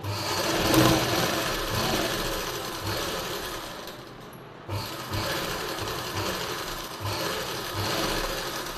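A sewing machine runs steadily as blouse lining is stitched to the main fabric, with a brief pause midway before the motor picks up again, close and continuous.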